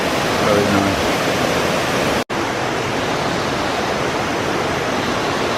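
A jungle waterfall at Mahua in Tambunan, Sabah, Malaysia pours in a loud, dense, continuous roar of flowing water, broken only by a split-second dropout midway.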